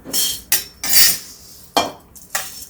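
Warmed puffed rice and poha are scooped out of a kadai. Sharp metallic scrapes and clinks come in several separate bursts, close by, with short quiet gaps between them.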